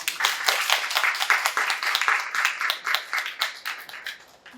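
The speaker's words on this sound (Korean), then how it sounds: "큰 박수로 맞이해 주시면 감사하겠습니다" A smaller audience at a student talk on exchange programs claps to welcome a speaker, individual hand claps standing out in a crisp, uneven patter that gradually tapers and softens toward the end.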